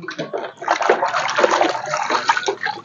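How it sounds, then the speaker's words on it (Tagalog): Water runs and splashes at a sink while dishes are being washed, a close, uneven gushing with sloshing bursts and short pauses, a voice briefly heard alongside. "Ang daming tubig."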